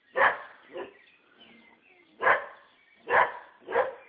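A dog at an outdoor ashram eclipse ceremony gives five sharp, separate barks, two early and three later, at moderate distance with quiet between them.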